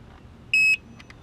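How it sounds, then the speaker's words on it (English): A single short, high electronic beep from a Gotway Msuper V3 electric unicycle sounds over a quiet background hum, followed by two faint chirps. "I'm not sure what that beep series means"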